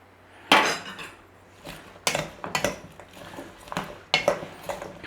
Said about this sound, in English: We're going to give it a stir and chuck the other half in.